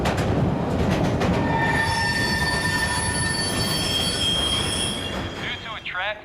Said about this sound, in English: Due to a track fire, this train will be temporarily delayed.